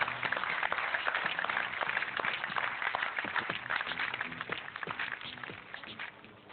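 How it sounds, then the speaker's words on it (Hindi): Loud, dense audience applause at a Hindi poetry gathering, a steady wash of many hands clapping that carries on for several seconds and eases slightly toward the end. "जोरदार तालियां"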